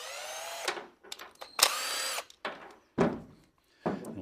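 A power driver removes screws from a lawnmower carburetor bowl in several short whirring bursts separated by pauses, close and fairly loud, with no talking.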